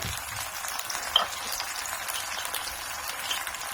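Omelet mixture frying in a pan, a soft steady sizzle and crackle throughout with a light clink near the start, faint and close with no talking.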